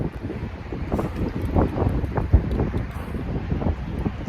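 Strong outdoor wind buffets the microphone in a steady, rumbling roar with gusty swells, loud and continuous throughout.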